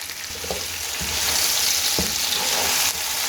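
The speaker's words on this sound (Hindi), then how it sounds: "इसे दरमियानी आंच पर भून लेंगे, बहुत ज़्यादा नहीं भूनेंगे।" Chopped tomato and green chillies fry on medium heat in a pan, giving a loud, even, close-up sizzle with a couple of soft stirring knocks.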